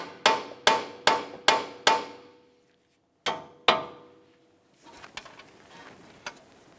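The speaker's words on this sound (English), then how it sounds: "We'll continue on with a hammer." A hammer strikes the steel steering knuckle of a 2003–2007 Honda Accord during front hub replacement: five quick, sharp metallic blows, a pause, then two more, followed by faint clattering.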